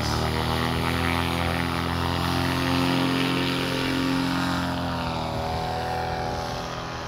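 Small propeller airplane near the Porto das Dunas dunes in Aquiraz, Ceará, with its engine running and revving for takeoff on a windy day, a loud steady droning hum with a rising pitch, close by, no speech.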